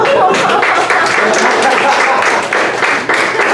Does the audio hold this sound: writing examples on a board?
no